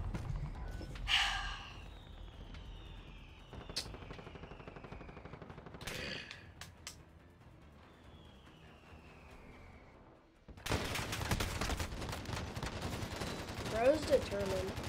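Gunfire from a video game shooter using a Swiss K31 loadout: sharp shots and short bursts scattered through the clip, growing louder and denser toward the end, mixed with game sounds and faint voices.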